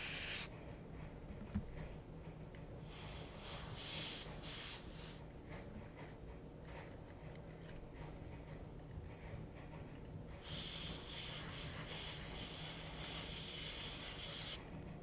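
Bursts of paint spray from a spray gun hiss in long, broad washes with short pauses between passes, fairly close and steady, no talk over it.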